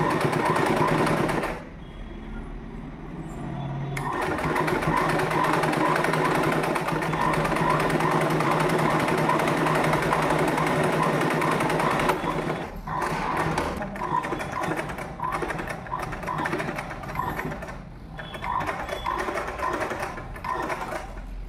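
Sewing machine stitching a folded half-inch hem on a uniform skirt, running steadily and fairly close for most of the stretch, with short pauses and a few start-stop bursts near the end.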